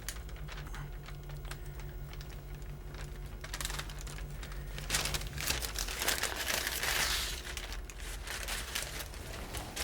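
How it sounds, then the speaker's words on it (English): Parchment paper crinkles and rustles steadily as rosemary filoncino bread dough is rolled off it, close and continuous, growing busier midway. "Just roll that off the parchment paper."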